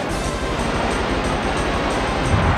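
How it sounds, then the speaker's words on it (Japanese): A rushing water-wave effect from a Surf attack in the Pokémon Stadium 2 video game, a loud, dense, continuous wash of noise that holds steady and surges slightly near the end. "ここで波乗りだ。"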